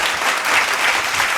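A school audience applauds a family dance performance by pre-primary students and their parents, a dense, even burst of clapping with nothing else over it.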